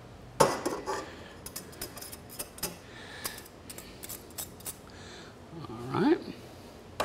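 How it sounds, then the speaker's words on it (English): A small flat whisk scrapes and clicks against a pan while mixing a flour-thickened sauce, irregular metallic taps and scrapes close by, with a person talking over it. "Just use my little flat whisk here to make my sauce and get that combined"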